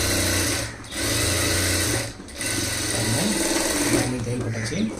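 A sewing machine stitches blouse lining to the main cloth in steady whirring runs, pausing briefly twice between bursts of fast mechanical chatter, close and loud.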